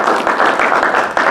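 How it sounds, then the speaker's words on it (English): An audience at a business session on mergers and acquisitions applauds a speaker, with loud, close, continuous clapping from a modest room crowd and slight swells in intensity. "Let's give him a round of applause."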